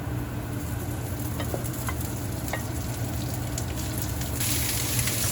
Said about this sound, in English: right now I'm sauteing garlic